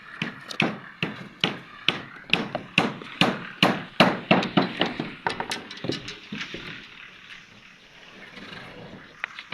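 A hammer drives nails into plywood sheets on a house roof under construction in Kasoa, Ghana, with a rapid run of sharp, ringing blows that slows and softens toward the end.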